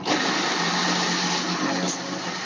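An electric blender whirs steadily as it purées corn, a loud, continuous, dense motor roar that holds level throughout with no talking.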